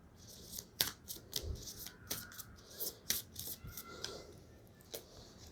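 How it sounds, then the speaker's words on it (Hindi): A deck of tarot cards is shuffled by hand close up, giving soft rubbing and riffling sounds broken by sharp little card snaps in an irregular rhythm, quiet and with no talking. "मैं कार्ड्स शफल करके प्ले आउट करूँगी"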